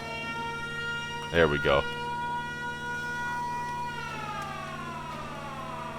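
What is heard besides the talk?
machine warning siren in video game Giant Machines 2017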